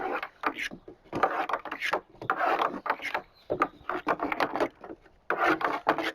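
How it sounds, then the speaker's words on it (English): A wooden yardstick stirs liquid lawn food inside a backpack sprayer tank. Repeated close scraping, swishing strokes come in short bursts with brief pauses between them. "So just stick the yardstick in there. You're going to mix it around."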